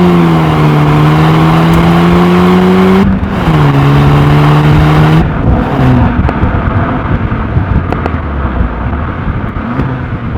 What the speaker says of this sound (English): also the exhaust sounds louder